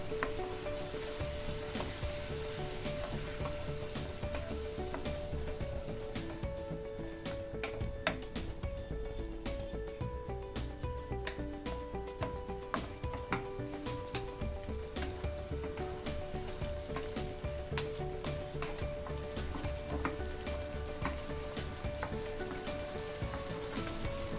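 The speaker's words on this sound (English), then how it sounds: "And now I'll be adding the tomato paste and mix it very well." Tomato paste is stirred into a sizzling egg curry masala in a pan, giving a steady, close frying crackle with faint ticking and scraping from the stirring throughout, and no voices.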